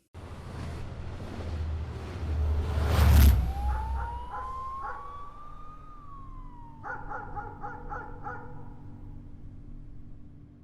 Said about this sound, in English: some police sirens from the street, and some dogs barking in the distance